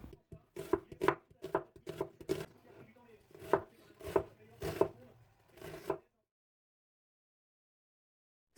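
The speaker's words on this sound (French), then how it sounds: "Couper et émincer un oignon." An onion being chopped and sliced on a board: a rapid series of close knife thuds in an uneven rhythm for about six seconds, then silence.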